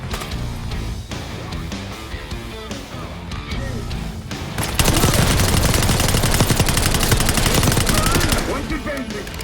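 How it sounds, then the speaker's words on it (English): Shotgun and other gunfire in the game Black Ops 6, with scattered shots early on, then a loud, sustained burst of rapid firing from about the midpoint that tapers off near the end, with voices shouting underneath. "Shotgun."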